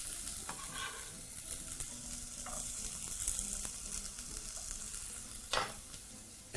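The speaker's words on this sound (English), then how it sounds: "proceed to fry everything together and proceed to cook until they're nicely translucent" Chopped onions and garlic fry in a pan for a vegan butternut squash curry, a soft, continuous sizzle with occasional scrapes and clinks of a wooden spoon stirring, fairly quiet and with no voices.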